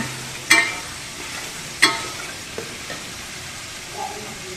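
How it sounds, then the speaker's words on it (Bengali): Potatoes cook in a spice gravy under a soft, low bubbling sizzle, punctuated by two sharp metallic clanks of a spoon against the pan and a few lighter taps. "আলু দিয়ে দেব এবার আলুটা একটু কষবো"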